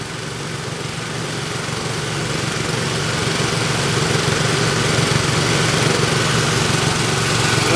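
A small Keene gold dredge motor runs steadily during Alaska gold mining, a loud continuous engine drone with rough low rumble that swells slightly and holds, no talking.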